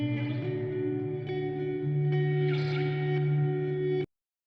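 Sustained tonal drone washed in heavy reverb, a smeared steady tone with shifting pitches that ends abruptly after about four seconds into silence.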